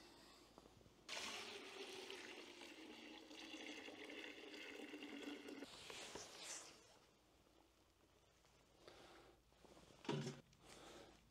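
Water poured into the steel tank of a VEVOR 10L ultrasonic cleaner, a bright splashing stream lasting several seconds, then a short gush and quieter trickles and handling noises, fairly faint.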